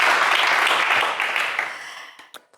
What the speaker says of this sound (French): Menti, on vous applaudit bien fort.